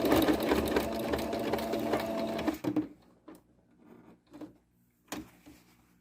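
A sewing machine runs steadily while stitching a quilt-as-you-go quilt, a loud continuous whir for about two and a half seconds, then stops, leaving a few short clunks and handling noises.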